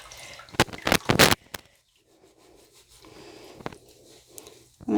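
A hat or beanie is scrubbed in water, with a few loud rubbing, splashing bursts early on, then softer wet scrubbing and faint drips that go on quietly before a final louder swish.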